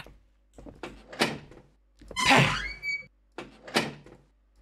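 In the video game Mirror, Mirror, a hand slaps a door shut, giving a few close thuds and knocks with a squeaky scraping swing between them, loud and alone.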